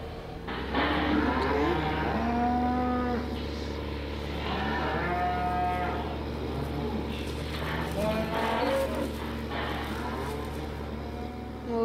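Cattle moo repeatedly in Farming Simulator 15, several drawn-out lowing calls over a steady low engine hum, fairly close and clear.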